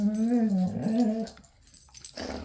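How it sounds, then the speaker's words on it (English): A doodle dog makes a strange whining, groaning vocalization that wavers in pitch, then trails into softer grumbles and a short yip, close by indoors. "Is that a doodle noise?"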